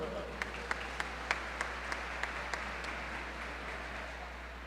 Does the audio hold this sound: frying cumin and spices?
no